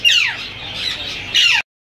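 Green ring-necked parakeets at a Sunday bird market give a loud, harsh squawk that rises and falls, then a second sharp squawk before cutting off, close and alone.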